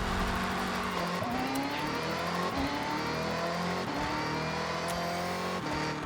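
A tuned Chevy Nova in a Forza Horizon race accelerates hard, its engine note climbing through the gears in a loud, continuous roar with brief shift dips along the way.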